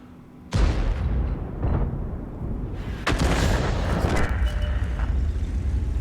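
In World of Tanks, a self-propelled artillery gun lands a shell on a Progetto tank, producing two loud booming impacts that are each followed by a sustained rumbling roar of game audio.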